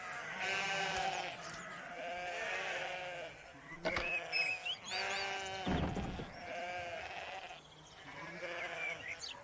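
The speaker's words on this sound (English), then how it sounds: "A field full of sheep." Sheep in a field bleat repeatedly with several overlapping, wavering calls at moderate distance, broken by a few brief knocks and thumps.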